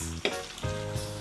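Scrambled egg hits a very hot pan and sizzles loudly, a close, crackling fry with a sharp burst near the start and a stirring scrape.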